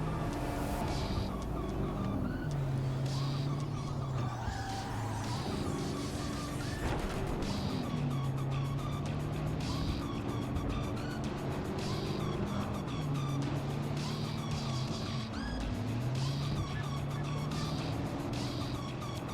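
Car driven through Night City in Cyberpunk 2077, with a continuous engine hum whose pitch repeatedly climbs and drops as gears shift, plus a few impacts and game effects over a busy street mix.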